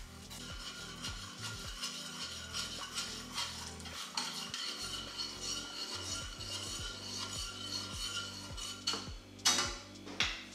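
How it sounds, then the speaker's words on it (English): Sauce being stirred in a pan over lowered heat while ingredients go in, for spicy tuna crispy rice, heard as a steady close rubbing and scraping of utensil on cookware with a few light clinks, no voices. "I'm gonna turn down the heat and stir as I'm adding this in"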